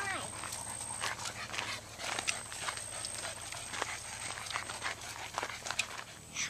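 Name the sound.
dog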